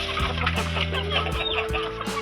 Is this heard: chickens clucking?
yes